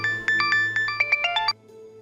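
A phone ringtone plays for an incoming call, a bright chiming melody of quick repeated notes that speeds up and then cuts off abruptly, leaving a low hum.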